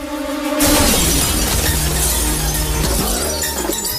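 Glass bursts loudly at once in an animated recreation of a Telugu film scene, followed by a long ringing, cascading wash of shards and noise.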